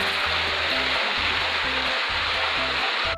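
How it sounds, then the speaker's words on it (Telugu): A hidden waterfall beside a forest path gives a steady, dense rushing hiss that stays constant throughout, with low rhythmic music faintly underneath. "హిడెన్ వాటర్ ఫాల్స్ అండి."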